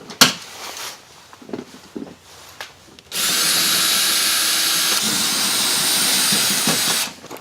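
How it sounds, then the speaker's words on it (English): A power driver spins an E14 external Torx socket to remove the seat bolts in a Sprinter van, starting with a few clicks and handling sounds, then a loud continuous whir for about four seconds before cutting off. "using an E14, that's an external Torx, we'll remove the bolts holding the seat down"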